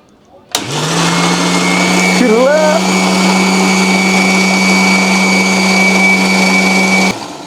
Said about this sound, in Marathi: मिक्सरचा आवाज कोणाला आवडतो त्याने ऐका